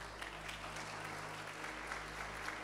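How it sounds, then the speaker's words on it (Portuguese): Congregation applauding during a church service, a faint, dense wash of clapping over a steady low hum, continuous and distant. "Pode aplaudir."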